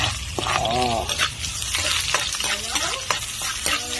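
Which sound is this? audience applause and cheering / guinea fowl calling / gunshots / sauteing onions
sauteing onions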